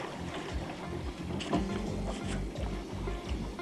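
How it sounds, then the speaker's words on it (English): Rhythmic canoe paddle strokes dip and splash in river water every second or so, with gentle water movement and light wind noise close by. "we'll be able to relax as we paddle through peaceful gorges"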